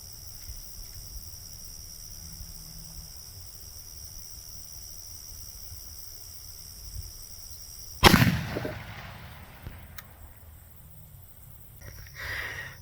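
A .223 Remington rifle fires one loud, sharp outdoor shot into ballistic gel at 50 yards, after a long quiet stretch of insect chirps, with a brief decaying echo and rustling afterward.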